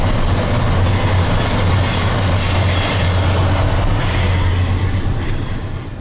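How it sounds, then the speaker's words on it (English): A freight train pulled by Dash 8 locomotives on the Iron Range slowly gathers speed, its loud steady rumble, low engine drone and wheel clatter running throughout, fading slightly at the end. "As the train slowly started to get to speed"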